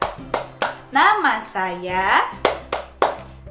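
Sharp hand claps in an introduction clapping game, a few at the start and a quick run of three near the end, mixed with a woman's sung and spoken lines in the middle.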